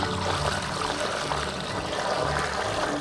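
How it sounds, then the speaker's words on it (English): Water pours steadily into a container holding a lotus tuber, a continuous close trickle and splash with no talking. "So after you pour the water"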